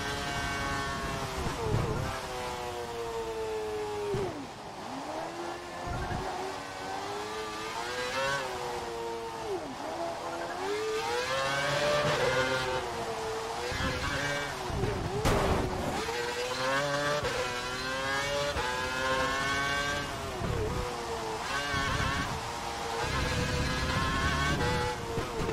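Formula 1 car on a wet track in the racing game F1 2012, its high-pitched engine revving continuously and rising through the gears with sharp shifts and brief dips under braking, loud and close throughout.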